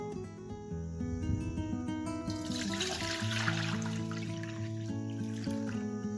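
Water pours into a cooking pot during papad making, a short splashing stream that swells in the middle of the moment, largely masked by steady background music.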